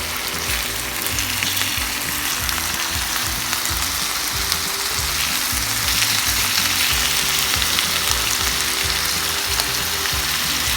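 Seasoned chicken fries in a pan, a steady close sizzle and crackle with continuous spattering and a low background hum throughout, no voices.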